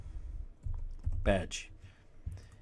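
Short bursts of soft keyboard typing on a computer, a few clusters of quiet clicks separated by pauses, with a brief voice breaking in partway.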